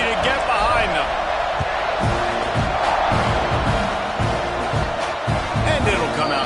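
Football stadium crowd before kickoff in a Louisville game: dense, loud roar with scattered whoops, thumps and claps, a broad wall of noise underneath a commentator's voice.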